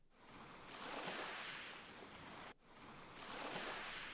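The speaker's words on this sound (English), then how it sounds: "I can hear small waves upon the shore." Small waves washing onto a shore in the visual novel Never 7, a steady broadband wash of surf that swells and recedes twice, with a brief dip in the middle, heard alone without voices.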